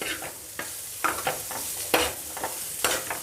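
Kabuli chickpeas sizzle in a pan while being stirred for a chicken curry, with steady frying hiss broken by regular scraping stirs close up.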